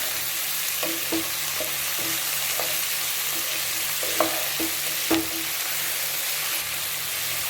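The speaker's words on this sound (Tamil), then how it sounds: "இப்போ நம்ம தக்காளி போட்டுக்கலாம் தக்காளி போட்டு ரெண்டு நிமிஷம் வதங்கிட்டு" Onions, mixed vegetables and tomatoes sauté in an oiled pan for sambar, a steady sizzle broken by scattered scraping knocks of a spoon against the pan, close and fairly loud with no voices.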